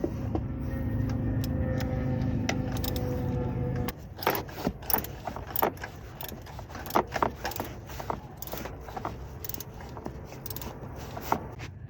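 A ratchet tightens a coolant temperature sensor on a 1989 Ford Econoline van, giving a run of close, irregular clicks that follows a few seconds of steady engine-like hum.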